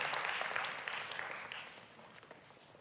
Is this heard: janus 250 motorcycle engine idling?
no